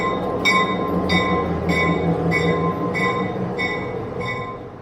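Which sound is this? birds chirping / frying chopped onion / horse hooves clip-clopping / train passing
train passing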